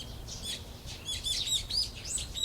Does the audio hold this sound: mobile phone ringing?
no